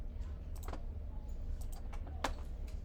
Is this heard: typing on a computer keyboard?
yes